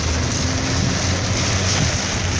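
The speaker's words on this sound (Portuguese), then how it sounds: "Mas olha, a chuva tá bem violenta" Heavy, violent storm rain heard from inside a car, a loud, unbroken roar of pounding water with low rumble underneath, dense and constant throughout.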